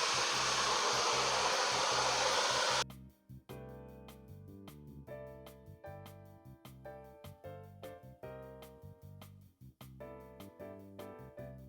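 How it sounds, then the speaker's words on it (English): Hair dryer fitted with a Conair diffuser, running on warm while drying hair, blows loudly for about three seconds and then cuts off, leaving music with a regular beat. "I have it on warm. You could put it on low or high, it doesn't really matter, and then the brand for the diffuser is Conair."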